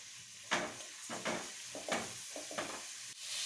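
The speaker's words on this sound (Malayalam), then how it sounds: "വെളുത്തുള്ളി ഇഞ്ചി ചതച്ചത് ഇത് നമുക്കൊന്ന് വഴറ്റിയെടുക്കാം" Crushed garlic and ginger sauté in a pan for kappa biriyani, a faint sizzle with several soft rhythmic stirring scrapes close by.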